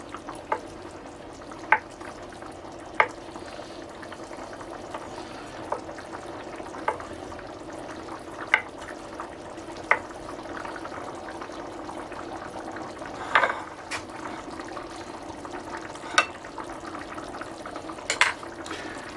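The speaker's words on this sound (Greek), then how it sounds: "Ανακατεύουμε συγχρόνως." Orzo and cherry tomatoes being stirred together in a single pot, a steady soft sizzle and bubbling simmer with intermittent sharp clicks of the spoon against the pot, close and alone without voices.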